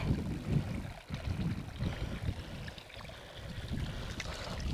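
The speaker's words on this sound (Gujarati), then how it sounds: "તો પાણીએ પહોંચી ગયો છું ને જો મસ્ત મજાનું પાણી આવે છે" Water rushes and burbles steadily along a farm irrigation channel, a continuous low flowing sound up close with no talking.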